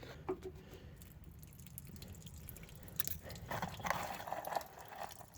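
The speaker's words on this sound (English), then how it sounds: "as you can see it's just pouring water out of it" Water pours out of a van drain hole just cleared with a screwdriver, a faint, uneven trickle and splatter with small dripping bursts that grow a little busier toward the end.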